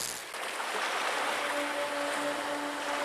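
Sea water and waves wash steadily at a fishing spot, a continuous broad rushing surf close by with a faint tonal hum running underneath.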